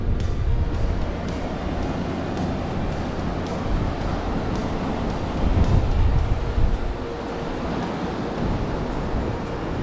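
Surf breaks along the beach at Berry Bay on South Australia's Yorke Peninsula, a steady close wash of waves mixed with gusty wind buffeting the microphone.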